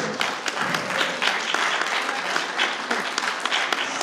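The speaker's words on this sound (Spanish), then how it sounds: "un fuerte aplauso, por favor" Sustained audience applause at a Mother's Day celebration, dense clapping from many hands, steady and fairly loud throughout with no break.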